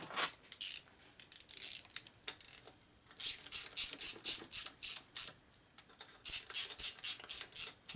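A ratchet tightening nuts on a 1946 Harley-Davidson 84ci stroker knucklehead engine makes quick runs of sharp, high clicks. The runs repeat in steady bursts with short pauses between them, close up, with no talking.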